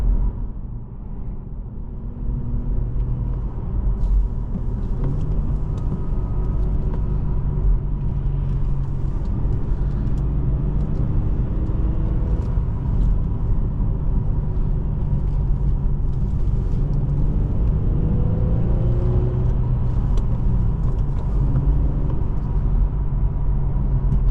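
A 2009 Infiniti G37S with a six-speed manual on a cold road drive, giving a steady low engine drone and road rumble from inside the cabin, continuous with no talk.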